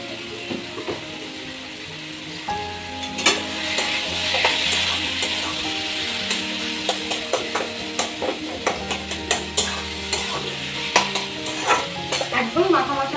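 Ash gourd curry sweetened with a little sugar is stirred and fried in a pan: a bubbling sizzle under repeated scraping and clacking of a spatula, the strokes coming in quick irregular bursts, close and clear.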